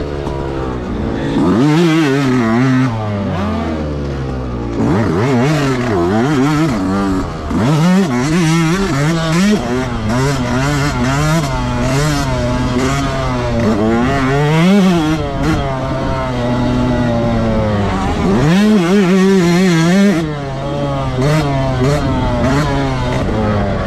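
A 2024 Yamaha YZ125X two-stroke dirt bike screams loud and close throughout a test ride, its engine revving up and down in repeated rising and falling sweeps with brief dips between bursts.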